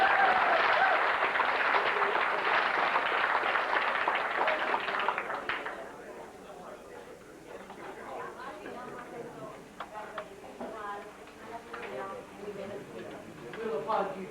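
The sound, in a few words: audience applause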